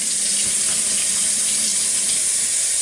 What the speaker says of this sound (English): now we'll fill it up with water again